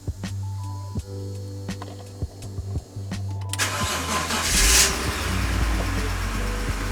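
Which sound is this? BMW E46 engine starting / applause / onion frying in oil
BMW E46 engine starting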